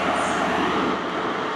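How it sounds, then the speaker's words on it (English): A GWR HST in new livery pulls away from Newton Abbot station, a steady broadband rumble of engine and wheels close by and continuous throughout, with no voices. "Right, off goes the new look GWR HST."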